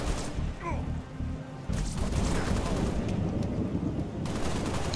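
Heavy automatic gunfire in the video game Halo Reach, rattling bursts and thuds running nearly nonstop, loud and close, with a brief voice early on.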